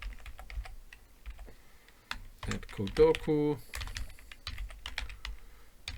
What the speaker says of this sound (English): Let's say I'm typing it in, but you shouldn't see it.